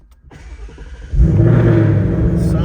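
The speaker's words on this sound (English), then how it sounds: "let's start the car up" A Ford Mustang Mach 1 with a 5.0L V8 and six-speed manual cranks briefly after quiet clicks, then catches and roars into a loud, rumbling idle close by.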